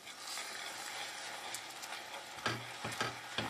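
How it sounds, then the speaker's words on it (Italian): Caramel being stirred in a pan as hot cream is added, giving a steady hissing, bubbling sizzle with a few scraping strokes of the spoon near the end. No one speaks. "Continuando a mescolare."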